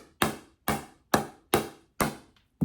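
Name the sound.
pickleball ball hit with a Joola Gen 3 paddle, deep thunk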